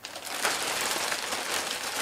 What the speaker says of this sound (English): And taking the oversized plastic bag off the top,